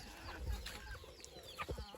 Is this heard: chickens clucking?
yes